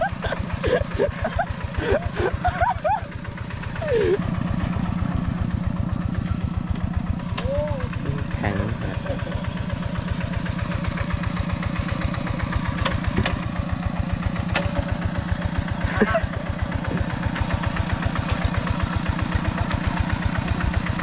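A small single-cylinder two-wheel tractor engine chugs steadily at close range with a rapid, even putter, while people talk briefly over it early on, in rice paddies in Laos.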